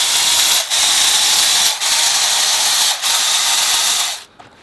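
Loud, dense mechanical ratcheting as a clamp bolt is worked loose on a 15-year-old Hyundai Santa Fe DM with 190,000 km, running continuously in three long bursts with brief pauses before stopping.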